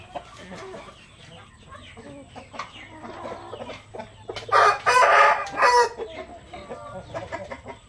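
A rooster crows nearby on a farm where breeder hens are kept, one loud drawn-out call rising above scattered clucking and background bustle.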